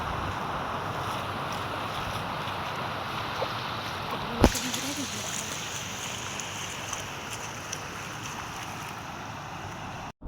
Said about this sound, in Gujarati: નદી ચાલી રહી છે, તમે જોઈ શકો છો, અને પવન પણ ખૂબ છે